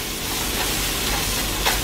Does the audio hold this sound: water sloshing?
no